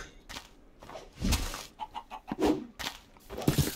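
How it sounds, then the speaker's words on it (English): A chicken in the video game Minecraft, modded with Minecolonies, clucks in a string of short irregular bursts, fairly close and clear, with brief pauses between the calls. "There's a chicken up here."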